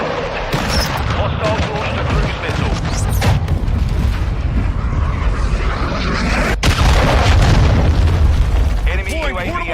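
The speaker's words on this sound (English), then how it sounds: "Hostile launched a cruise missile." Heavy explosion booms in a Modern Warfare 2 multiplayer match as a cruise missile strikes, dense rumbling blasts running through the clip with a sharp crack partway, under ongoing game noise and a player's voice.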